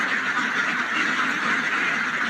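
A flock of domestic ducks quacks in a dense, continuous chorus of overlapping calls that stays fairly loud and steady throughout.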